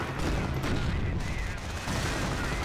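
Gunfire and explosive blasts from a World War II battle in Company of Heroes, including a Panzerschreck anti-tank weapon firing, loud and continuous through the clip with no speech.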